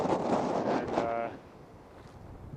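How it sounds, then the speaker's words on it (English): Wind gusts across the debris-covered surface of a long glacier in Nepal, buffeting the microphone loudly for about a second before easing to a softer, steady rush. "as you can see, it's a little bit windy"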